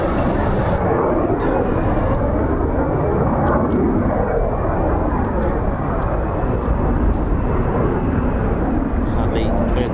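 An F-35 stealth fighter jet comes in to land on a runway, its engine a loud, steady roar that fills the whole stretch without letting up.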